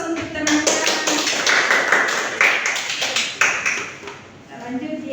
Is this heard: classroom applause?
yes